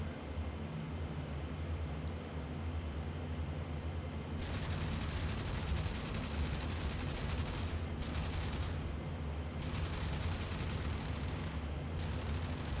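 Gunfire from the IL-2 flight simulator video game crackles in dense bursts over a steady aircraft engine drone, with sustained rattling volleys starting midway and pausing briefly between strings of shots.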